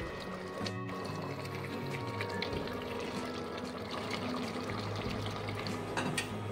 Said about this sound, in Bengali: এই সময় 2 কাপ গরম জল দিয়ে দিলাম। ফুটতে শুরু করেছে।